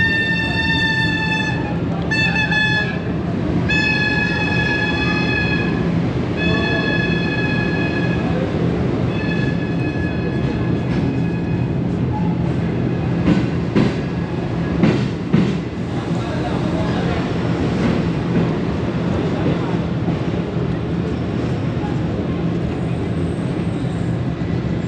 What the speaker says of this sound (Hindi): 28 डाउन शालीमार एक्सप्रेस उकाड़ा रेलवे स्टेशन पे अप्रोच कर रही है